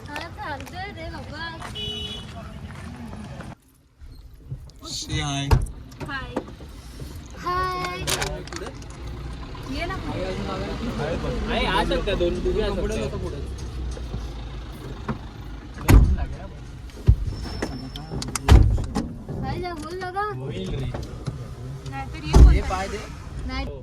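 A car engine rumbles steadily throughout while people talk over it, with a few sharp knocks and clatters near the end.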